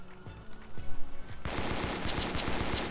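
Gunfire from the mobile FPS game Danger Close: a few separate single shots, then a sustained rapid automatic burst that continues loudly to the end, with no talking.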